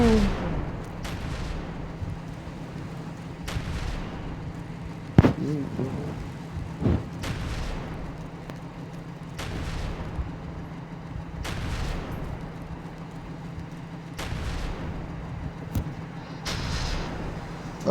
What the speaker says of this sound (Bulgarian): Това е много слаба експлозия.